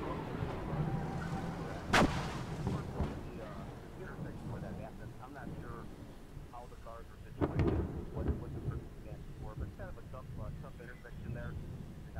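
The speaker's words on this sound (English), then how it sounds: "That thunder actually scared me a little bit." Thunder cracks in the survival video game Stranded, a sharp loud clap near two seconds and another rumbling burst around seven and a half seconds, with someone talking throughout.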